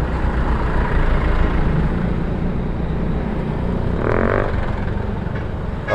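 A large container truck rumbles past on a morning road between Kairagi and Airmadidi near Manado, a loud, steady engine drone with traffic noise and a brief higher tone near the end.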